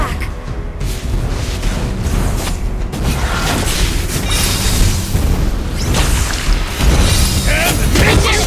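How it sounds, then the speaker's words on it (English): A turret under attack in a video game, with heavy booms, impacts and mechanical clatter rumbling continuously while game voices speak over the fighting. "Our turret is under attack!"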